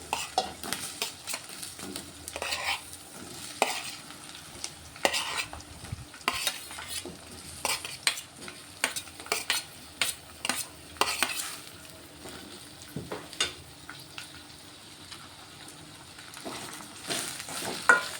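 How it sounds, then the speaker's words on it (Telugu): Chopped ivy gourds frying with onion and green chili in a pan under a low sizzle, punctuated by frequent clattering spatula strokes against the metal as the mix is stirred, close and without voices. "ఇప్పుడు ఇందులో కట్ చేసి పెట్టుకున్న దొండకాయలు కూడా వేసుకుంటాను"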